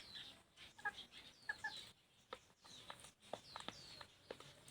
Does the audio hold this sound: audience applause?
no